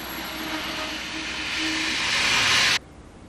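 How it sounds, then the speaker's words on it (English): The late-running Erasmus express passenger train from Innsbruck arrives at Emmerich station, giving a broad, steady rushing hiss that grows louder with faint squealing tones, then cuts off abruptly. "The sun is setting over Emmerich as the late-running Erasmus from Innsbruck arrives"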